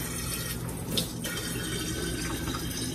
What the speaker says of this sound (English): I'm about to fill up my canteen with some more water.